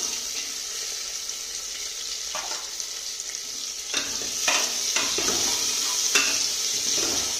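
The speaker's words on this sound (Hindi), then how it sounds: "प्याज को हम थोड़ा अच्छे से भून लेंगे।" Chopped onion fries in a pan for a bathua dal, a steady sizzle joined midway by bursts of scraping and stirring from a spoon, close and clear with no speech.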